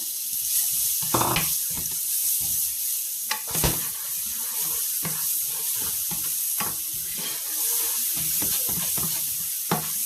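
Onions frying with chillies in a pan for samosa filling, a bright crackling sizzle broken by frequent close stirring strokes and scrapes, with no speech.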